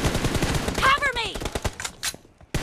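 Rapid gunfire in the mobile battle royale game BGMI, dense bursts of automatic shots with sharp cracks and a brief pause before a final shot, loud and close, with some voice-like tones mixed in.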